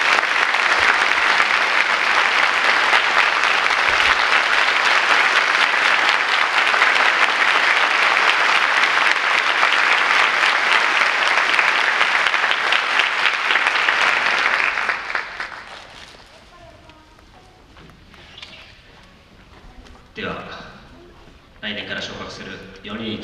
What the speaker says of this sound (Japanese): 皆さん拍手お願いします